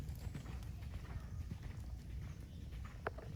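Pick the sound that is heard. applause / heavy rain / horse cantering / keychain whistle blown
horse cantering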